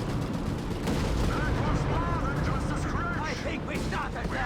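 Distant gunfire crackles in Company of Heroes 3 amid a dense battle din, with scattered shots under a commentator's voice.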